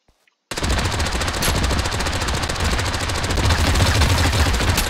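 Continuous full-auto machine gun fire in Totally Accurate Battlegrounds, a loud unbroken rattle starting after a brief silence and running steadily to the end with no talking.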